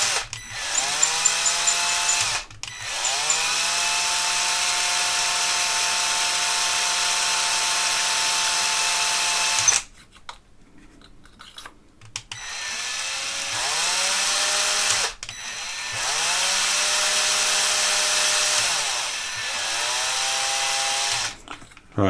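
A power drill whirs loudly in long steady bursts, drilling through a part of a 1960s HMV 65-54 Super 5 Little Nipper radio, stopping briefly between runs and starting up again several times.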